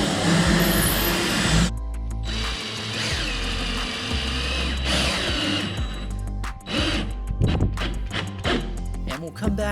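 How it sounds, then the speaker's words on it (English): Trim screws go into a wooden top board of a doll bed with a screw gun, giving several short whirring bursts of the driver among other close workshop noises. "then I'll just use a screw gun to attach this top board"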